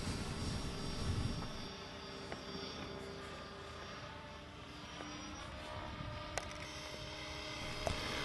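A steady, buzzing rotor and engine drone hangs overhead from a Blade 550 X remote-control helicopter flying inverted at moderate distance, continuous throughout with faint wind noise.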